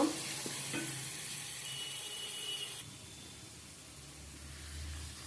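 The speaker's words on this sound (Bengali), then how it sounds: "এবার আমি ভালো করে মশলাটা একটু কষিয়ে নিব" Ground garlic and mixed spice paste fry in a pan for koi fish steamed in gourd leaves, giving a steady close hiss with a few utensil knocks early, then a quieter continuing sizzle.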